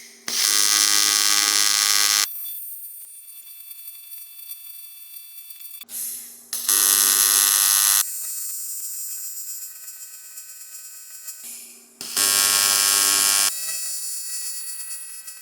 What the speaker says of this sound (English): Let's go ahead and start welding this thing out.